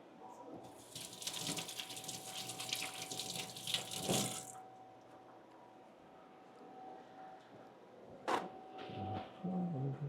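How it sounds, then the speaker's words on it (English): A kitchen tap runs steadily for about four seconds as hands are rinsed, then cuts off, followed by brief splashes and clatter later on. "rinse my hands off real quick"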